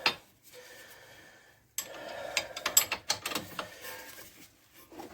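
A ratchet tightens the sway bar end link bolt on a Toyota Corolla, giving a brief click, a pause, then a close burst of irregular ratcheting clicks.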